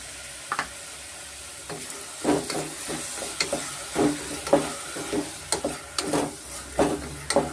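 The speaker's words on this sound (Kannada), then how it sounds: "ಸ್ವಲ್ಪ ಫ್ರೈ ಮಾಡ್ಕೊಳ್ಳೋಣ" Tomato and chili puree frying in a pan, a steady sizzle with repeated scraping stir strokes in uneven bursts, close and fairly loud.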